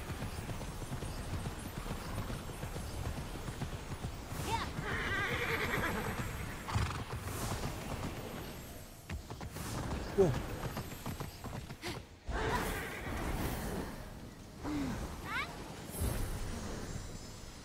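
Hoofbeats clip-clop at a steady trot from a horse in the video game Immortals Fenyx Rising, broken by a few whinnies and neighs, while game music and effects play softly underneath.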